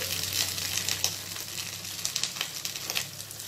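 Curry leaves and onions sizzle steadily in a hot pan for a dried-fish curry, a continuous close crackling hiss with small pops scattered throughout and no voices.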